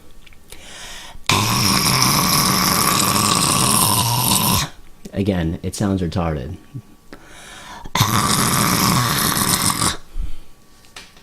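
Harsh, raspy false-chord scream pushed without proper breath support, loud and close, in two sustained bursts of a few seconds each, separated by a short stretch of speech.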